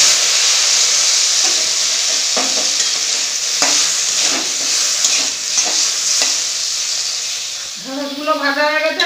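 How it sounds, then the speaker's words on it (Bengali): Okra fries in hot oil with a continuous loud sizzle and hiss, punctuated by stirring clatters and bubbling pops, while a person begins speaking toward the end. "তেল গরম হয়ে গেছে, ঢেঁড়সগুলো একটু ভেজে নেব।"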